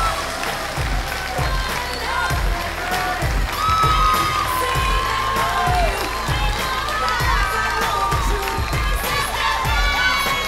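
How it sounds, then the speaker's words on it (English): A pageant crowd at the Miss Universe New Zealand grand final erupts in shouts, whoops and cheering over scattered applause, with pulsing music thumping underneath and high excited voices throughout. "One more round of applause for our Golden Girls, all 20 of them"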